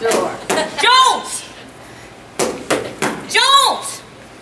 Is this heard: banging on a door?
yes